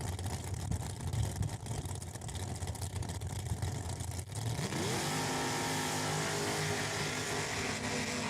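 A 1967 Camaro with a small-block engine and a 1982 Pontiac Trans Am launch down the drag strip at Saskatchewan International Raceway during heads-up racing testing. A busy, roaring idle gives way to loud, rising engine howls as both cars accelerate hard.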